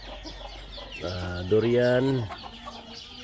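A flock of chickens around a hut cluck nearby, with a drawn-out call in the middle, while someone talks briefly over them.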